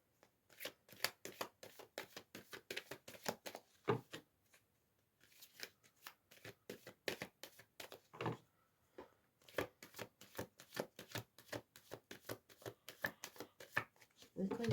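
Playing cards are shuffled and dealt over and over in brisk rapid riffles, close and crisp, with short pauses between bursts and some quiet talk in the background.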